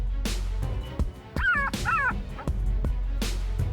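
A black-backed jackal gives a few sharp barks and yips, close and distinct, with thin whimpering cries between them over a low steady background hum.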